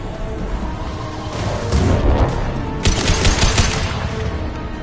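Rapid gunfire rattles in bursts in a PS4 video game, loud and dense, with a heavier volley of shots near the end over steady background noise.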